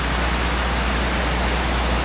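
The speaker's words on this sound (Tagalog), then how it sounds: "Super ulan ngayon sa El Nido guys." Heavy tropical rain pours in El Nido during a storm, a dense, steady hiss with a low rumble underneath, loud and unbroken for a couple of seconds without speech.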